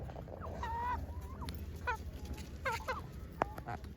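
An Aseel breed chicken gives a few short, scattered clucks and calls over a constant low background hum, with no talking.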